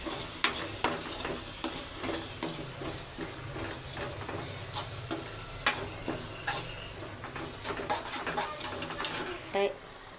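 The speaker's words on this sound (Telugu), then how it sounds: "బాగా కలుపుకొని మిక్స్ చేసుకున్నాం" Turmeric, garam masala and coriander powder are stirred through tomatoes in a pan for tomato rice. Scraping strokes ride over a gentle sizzle, with a voice and cooing birds faint in the background.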